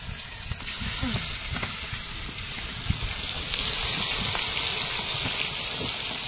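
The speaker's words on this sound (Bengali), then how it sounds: "মাছগুলো এক এক করে সব তেলে দিয়ে দাও।" Fish pieces frying in hot oil in a large village cooking pot, a continuous loud sizzle that swells as more pieces go in, with faint voices and clattering in the background.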